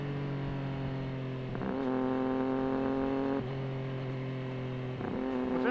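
A Triumph Daytona motorcycle engine runs loud and close, holding steady tones with rising revs and a couple of brief gear-change dips between sustained pulls.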